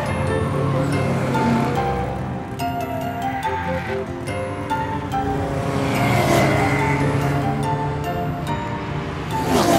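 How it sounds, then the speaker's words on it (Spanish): Animated race cars in a TuTiTu children's cartoon roar along continuously, engine drone and tire noise filling the scene at a constant loud level with a brief swell toward the end, no talking. "Autos de carreras."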